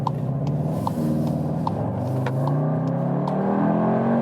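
A 2021 Volkswagen Tiguan R accelerates in R race mode, its engine note rising smoothly and steadily from a low rumble, heard up close from the cabin with no talking.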